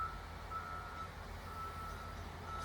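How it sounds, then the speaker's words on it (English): Backup alarm of a Cat 924H wheel loader, a steady high tone sounding continuously over low diesel engine rumble, fairly faint and at a distance. "You hear the sound of the backup alarm."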